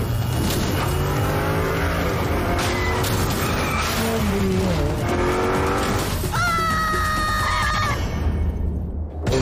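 Cartoon city traffic, with loud car engines revving and tires squealing in repeated sharp screeches, layered with honks and chaotic vehicle noise throughout.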